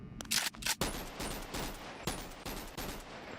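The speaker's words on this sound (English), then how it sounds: "Okay, so this is the AKM. Just listen to that gunshot." AKM rifle gunfire in the VR video game Bonelab: a rapid string of sharp, loud shots, several fired in quick succession, then further spaced shots ringing out close up.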